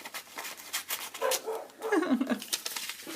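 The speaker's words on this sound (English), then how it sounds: "Oh, I hear Nellie. She's trying to save me from intruder squirrels outside my window" A dog barks and whimpers somewhere in the distance, a few muffled yelps over faint background noise.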